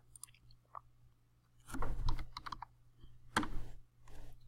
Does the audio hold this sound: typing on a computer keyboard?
yes